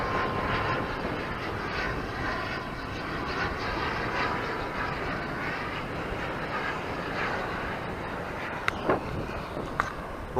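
Airplane landing at São Vicente airport beside the beach in Cape Verde, a loud, sustained engine roar that holds steady and close, with faint rustles and clicks toward the end.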